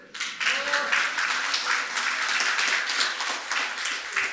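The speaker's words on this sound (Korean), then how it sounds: "죽이면 박수 치세요" Audience applause at a lecture on smartphone use, a dense burst of many hands clapping in a steady patter that rises quickly and holds at a fairly loud level throughout.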